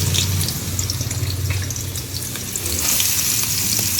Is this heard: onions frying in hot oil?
yes